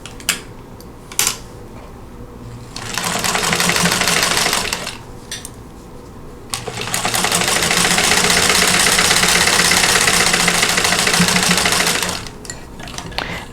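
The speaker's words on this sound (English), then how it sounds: "as you're sewing this block" A sewing machine stitches a broken star quilt block in two sustained runs, a steady close mechanical whir of about three seconds and then about six seconds, separated and followed by quieter handling sounds.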